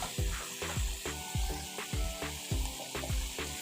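Chopped vegetables frying with onions in a pan, a steady sizzle under regular rhythmic scraping and stirring strokes, close and clear with no voices.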